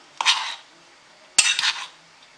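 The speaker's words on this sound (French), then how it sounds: "Et je vais le mélanger, le tout. Même je peux le mélanger avec mes mains, comme ça." Soft cheese filling for Turkish börek mixed by hand in a bowl: two short bursts of squelching, clinking kitchen noise, each about half a second long, with quiet pauses between.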